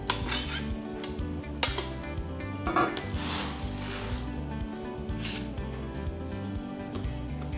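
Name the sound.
scraping minced parsley gremolata off a knife into a bowl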